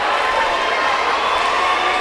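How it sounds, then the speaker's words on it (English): Loud, sustained roar of an agitated home crowd in the Mount Juliet gymnasium during a tight high-school basketball game, a dense unbroken wall of yelling and cheering with no let-up. "this crowd here in the Mount Juliet Gymnasium is livid"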